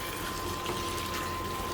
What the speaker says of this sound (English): And then I'm going to add a little bit of water